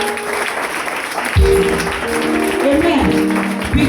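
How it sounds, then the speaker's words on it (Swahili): A church congregation claps along during a praise and worship service, a steady wash of hand claps running throughout with voices and sung tones rising over it. "Napigia Bwana makofi."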